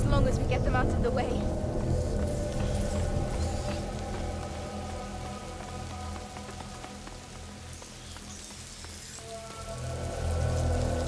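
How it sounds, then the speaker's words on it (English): Rain falls steadily in the video game A Plague Tale: Innocence, a dense hiss of drops pattering on surfaces that fills the background while characters talk over it. "Lucas, Hugo, stay out of the rain."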